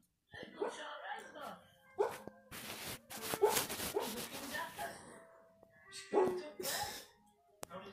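A sleepy dog lets out soft, muffled woofs and little whimpering yips in a quiet room, short scattered bursts close by with brief pauses between them, with some human sound mixed in.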